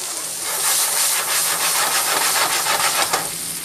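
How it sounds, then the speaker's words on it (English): Pre-cut vegetables sautéing in butter, a loud close hissing sizzle that swells as they hit the pan and holds steady with faint stirring texture, no talking. "We're just gonna saute them a little bit."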